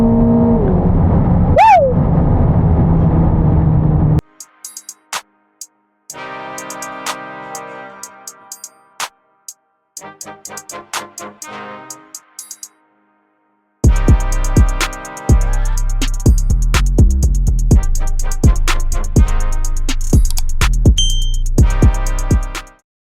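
A 1000 hp Corvette ZR1 is gunned hard without traction, engine revving loudly through repeated bursts and gear changes, with brief drops to near silence between pulls, close and loud throughout.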